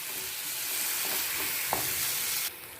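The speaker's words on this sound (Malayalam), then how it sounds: "എന്നിട്ട് നമുക്കിതൊന്നുകൂടെ ഒന്ന് മിക്സ് ചെയ്ത് കൊടുക്കാം." Beans masala curry is stirred in a pan, a steady hissing sizzle with soft scraping and one brief clack of the spoon before it cuts off abruptly near the end.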